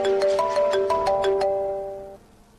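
A phone ringtone for an incoming call plays a loud, close melodic electronic tune of repeated notes, then trails off and fades out. No one speaks.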